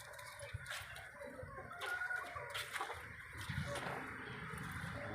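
Young Rhode Island Red hens cluck softly in a shared coop, with short overlapping calls close by over faint background noise and a little splashing.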